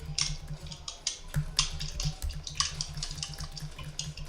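Water splashing in the Castle Crashers video game, a steady bright sloshing with repeated splashy bursts over a low droning game soundtrack, no talk.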